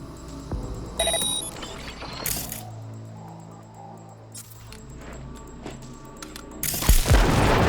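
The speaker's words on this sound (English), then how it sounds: "Detonate the grenade." Grenade explosions in Cyberpunk 2077 land as several sharp, booming bursts, with a heavier, louder blast rolling through the final second over a low, rumbling game soundscape.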